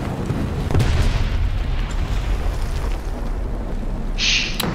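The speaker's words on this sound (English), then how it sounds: "I thought a bomb landed next to me." Bomb explosion landing close by in War Thunder during a realistic ground battle, a heavy low rumbling boom that swells early and lingers as a sustained roar with no talking.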